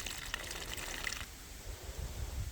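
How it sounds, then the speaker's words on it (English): Water running through a hillside water line, a soft trickling gush that fades after about a second, leaving faint low gurgles. "So that's just water in the line coming from down there."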